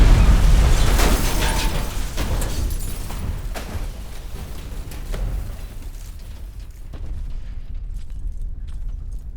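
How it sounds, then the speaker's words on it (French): Heavy, rumbling explosions from bombing near Kyiv in wartime Ukraine boom in quick succession, loud at first, then continue as duller blasts and crackling further off, with no voices. "Des explosions ont été entendues près de Kiev à Kharkiv."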